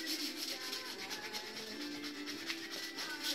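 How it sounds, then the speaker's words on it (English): Edges of a PVC fleshing beam being sanded by hand with 150 grit sandpaper, a close, steady soft rubbing and scratching with no voices. "This is just 150 grit sandpaper."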